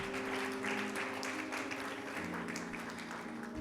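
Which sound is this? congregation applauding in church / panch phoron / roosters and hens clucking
congregation applauding in church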